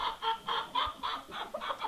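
A flock of chickens clucks in a rapid, steady series of close, moderately loud bursts with no talking.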